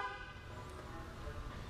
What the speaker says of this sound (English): One honk means that one's done.